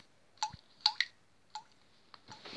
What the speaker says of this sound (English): if you open it, it makes this sound